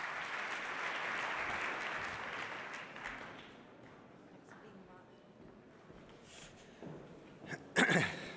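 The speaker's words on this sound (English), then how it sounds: "Please give him a big round of applause." A room full of guests at an award ceremony and evening reception applauds a speaker. The dense clapping is loud at first and thins out over several seconds to a few scattered claps. Brief voices come near the end.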